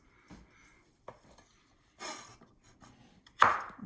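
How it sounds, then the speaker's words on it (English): A knife slices through fresh ginger on a cutting board for a pork stir fry, giving a few sparse, sharp cuts spaced apart, close and fairly quiet, the last stroke louder. "And I'm slicing the ginger."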